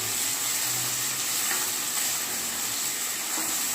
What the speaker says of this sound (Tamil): சின்ன சின்னதாக கட் பண்ணிக்கோங்க அதுவும் போட்டு நம்ம நல்லா மிக்ஸ் பண்ணிக்கலாம்